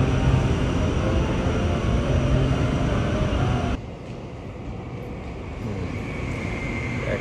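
Trains pass from both directions on a Japanese line, a loud, steady roar of rolling wheels and rushing air that drops abruptly partway through as one train clears, leaving a lower continuing rumble.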